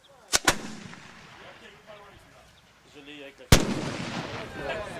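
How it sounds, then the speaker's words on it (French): A replica of the French WWI 75 mm field gun, an 1895 design, fires at an event in the Landes: two sharp cracks, then a heavy close boom with a rumbling tail. "Le canon a tonné pour annoncer la future exposition itinérante sur la guerre 14-18 dans les Landes."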